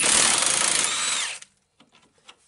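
A power tool whirs loud and steady while removing nuts from the passenger side axle of a 1998 Nissan Sentra, then cuts off abruptly, followed by faint clinks of loose parts.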